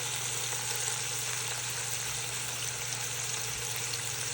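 Burgers fry steadily in a pan, a continuous close sizzle and crackle with an even hiss throughout and no voices.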